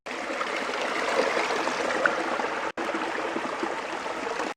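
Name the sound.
Kegon Falls waterfall, Japan, flowing water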